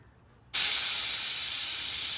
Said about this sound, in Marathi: तीन शिट्ट्या झालेल्या आहेत